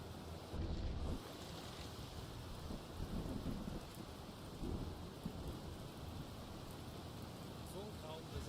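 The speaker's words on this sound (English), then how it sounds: "Raining." A rainstorm with thunder over the Atlantic sea in a submarine video game, a continuous dense hiss of rain with low rumbling, steady and fairly loud with no voices.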